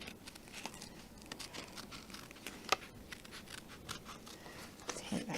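Scissors snip out die-cut card pieces at a craft table, a faint, quick run of small cuts and paper rustles with light crinkling, close but quiet throughout.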